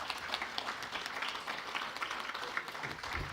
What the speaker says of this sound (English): Let's give another round of applause for this remarkable start